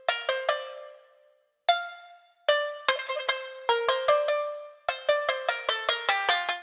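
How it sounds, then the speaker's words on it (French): Plucked shamisen from the Ethnoworld 7 library picking out a bright, twangy melody in quick rhythmic groups of notes, each pluck decaying fast, with a short gap early on and no voices. "Je mets également un shamisen toujours de Ethnoworld 7."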